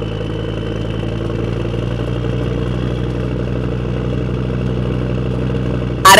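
Steady engine drone of a cartoon motorcycle being ridden up a hill in a comedy scene, a constant mid-pitched hum with a sharp burst of noise at the very end.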